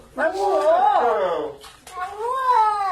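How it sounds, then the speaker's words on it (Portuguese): A cat that has just had a bath meows in two drawn-out, wavering cries, close and fairly loud, with a short break between them. "Esse gato tava tomando banho, mas ficou magoado."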